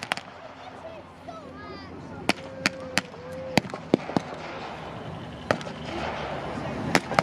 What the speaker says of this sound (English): The gunfire and occasional shots from the Germans trying still to assert some dominance.